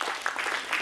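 A crowd applauds at a Gojri cultural conference in Jammu, a brief, dense burst of steady clapping that fills the space at a fairly loud level.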